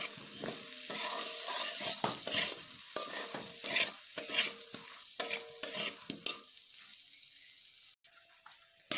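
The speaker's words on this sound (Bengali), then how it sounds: "বেগুনগুলো আমি এইভাবে একটু লাল লাল করে ভেজে নিলাম।" Eggplant slices frying in oil in a pan with salt and turmeric, a steady close sizzle broken by repeated stirring and scraping, fading near the end before a final clatter.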